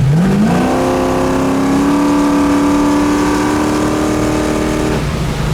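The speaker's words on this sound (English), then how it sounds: "you put this thing in drive, you got a nice stall, which is going to give you all this horsepower" A 1971 Chevrolet Camaro SS accelerates, its engine note climbing quickly and then holding a loud, steady, close drone from inside the car before easing off near the end.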